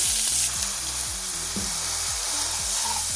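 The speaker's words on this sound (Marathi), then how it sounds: "आता मी हे मिक्सर मध्ये बारीक केलेलं कांद्याचं वाटण घालतेय।" Onion paste sizzles loudly in hot oil seasoned with cumin, turmeric and asafoetida for dhaba-style chole, a steady close frying hiss with a few faint clinks.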